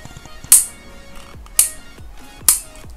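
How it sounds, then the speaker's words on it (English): Ratchet joint on a Marvel Legends Venom Deluxe 2020 action figure clicking three times, each a sharp, close snap about a second apart over a quiet background. "So there's some clicking sound over here."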